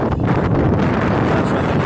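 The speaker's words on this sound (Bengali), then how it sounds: "ঠান্ডা হাওয়া পাইতেছে।" Cold gusting wind roars and buffets steadily across the whole stretch, loud and close with a rough, blustery texture, blowing over the roof of a lift.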